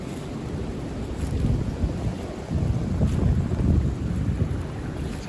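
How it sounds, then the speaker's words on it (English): Strong wind buffets the microphone outdoors on a wet, stormy day, a loud continuous low rumble with gusts swelling and easing and no voices. "I'm not sure if my voice will carry through over all this wind"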